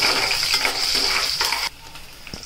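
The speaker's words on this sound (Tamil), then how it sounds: "பூண்டை நல்லா ஃப்ரை பண்ணிக்கலாம்." Garlic fries in peanut and coconut oil with a bright, hissing sizzle for most of the moment, plus a scrape of stirring, before the sizzle drops off sharply to a quieter background near the end.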